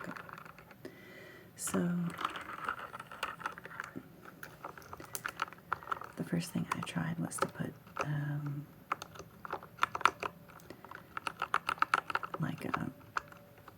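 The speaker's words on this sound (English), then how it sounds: "sometimes when I'm really going, typing, it does kind of get to me" Fingers type on a modded computer keyboard in scattered bursts of soft, close clicks and clacks, with a soft-spoken voice talking over them.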